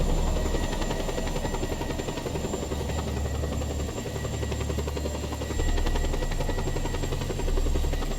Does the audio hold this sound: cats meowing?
no